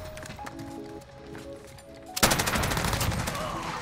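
Bruen rifle firing tracer rounds in Modern Warfare, a sudden loud, sustained burst of rapid automatic gunfire that kicks in after a quieter stretch of game ambience and continues steadily to the end.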